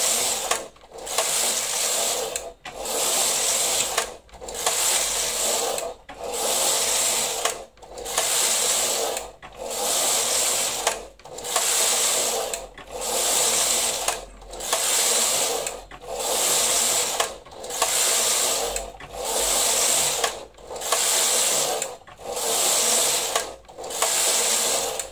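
A Knitmaster Silver Reed knitting machine working tuck stitch: the carriage sweeps back and forth in steady rhythmic passes about every 1.7 seconds, each a loud mechanical whirring rasp with clicking needles, separated by brief pauses, close and alone.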